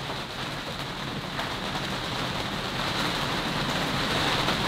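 Heavy rain drums steadily on a boat moored in a harbour on a windy late-summer night, a dense constant hiss that swells slightly toward the end, with no voices.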